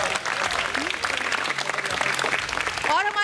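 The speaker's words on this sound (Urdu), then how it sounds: "ان کے لیے بھی بہت ساری تالیاں." A studio audience at a Ramadan iftar television show applauds loudly and steadily for about three seconds, with a voice cutting in near the end.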